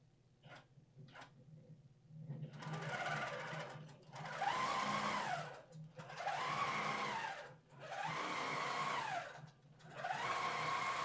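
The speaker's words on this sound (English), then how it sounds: "I'm going to hit Resume, and it's going to sew for us" Domestic sewing machine stitching a row of fabric, several steady motor bursts with short pauses between them, a close, even whirring hum with no talk over it.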